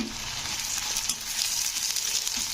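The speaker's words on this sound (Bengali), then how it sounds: "তেলটা যেন হালকা গরম হলে তারপরে কিন্তু পেঁয়াজগুলো ছাড়বে" Sliced onions fry in moderately hot oil for beresta, a crisp fried-onion garnish, giving a steady close sizzle and crackle that runs through the whole moment with no voices.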